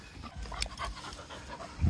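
Pet dogs panting rapidly and steadily inside a cage at home, close and fairly quiet, with a faint whimper and a louder thump near the end.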